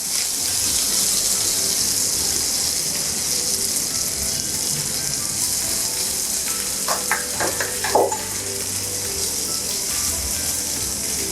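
Finely chopped onion frying in a pan with mustard seeds and curry leaves, a dense continuous sizzle with a brief cluster of louder crackles and stirring clatter partway through.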